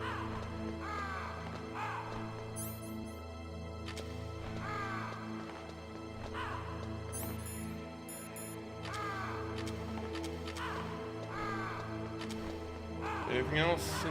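Harsh crow caws recur in bursts over a sustained musical drone in the Metal Gear Solid video game, with someone talking over the game audio.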